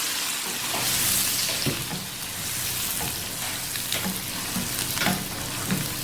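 Tikka karahi, just dressed with lemon juice, sizzles steadily in the pan while being stirred, with soft scraping strokes and small knocks over a constant hiss. No voices.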